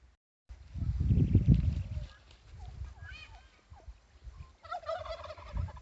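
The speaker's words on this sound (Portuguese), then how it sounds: "Ali tem uns glu-glu, uns peru" Turkeys gobble in short bursts, with a loud rumbling gobble near the start followed by quieter, intermittent calls nearby and a brief burst of chatter toward the end.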